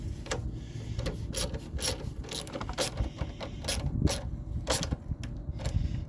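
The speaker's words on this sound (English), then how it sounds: "Now we're going to tighten them up here with the ratchet." A ratchet wrench clicks steadily as it tightens bolts on a lawnmower during a tune-up, with quick repeated pawl ratcheting in bursts, close and moderately loud, and no one talking.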